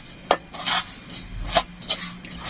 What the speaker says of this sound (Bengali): কিছুক্ষণ পর এভাবে নাড়িয়ে নিতে হবে উলট পালট করে